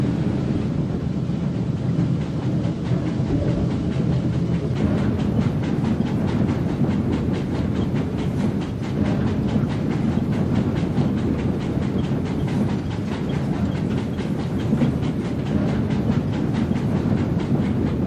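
California Skunk Train rolling along the tracks, recorded on VHS in 1995: a steady loud rumble with rhythmic clickety-clack of wheels over rail joints throughout, no talking.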